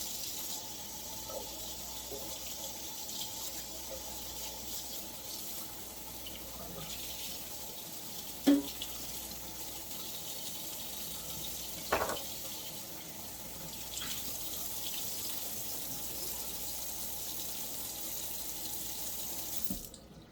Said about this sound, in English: And then we're going to wash my knife off.